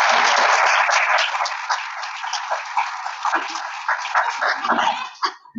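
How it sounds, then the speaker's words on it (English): A small audience at a check presentation claps for the Midwest Food Bank, a brisk burst of applause that thins into scattered claps and a cough before ending. "So quick round of applause for Midwest Food Bank."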